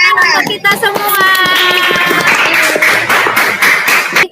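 Classroom applause from fifth-grade pupils and their teacher during a lesson, a dense patter of clapping mixed with children's chatter and a voice or two heard over it, steady and close throughout.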